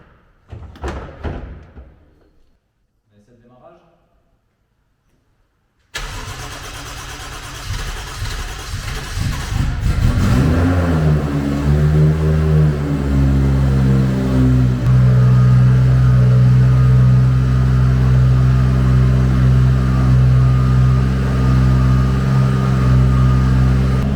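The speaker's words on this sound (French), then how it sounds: "la caisse tourne, pas de souci, elle a bien démarré" Nissan S14 with a JZ engine cranking and firing up, then settling into a loud, steady, close idle with a deep rumble, after a few quiet moments of faint handling noise.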